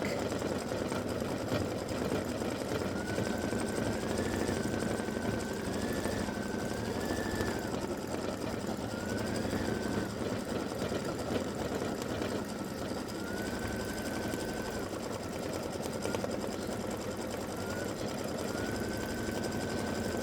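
Embroidery machine stitching a turkey's beak in yellowy gold thread on a Thanksgiving quilt block, a fast, steady, close mechanical whir with a continuous rapid needle rhythm and faint tonal whines, running unbroken the whole time.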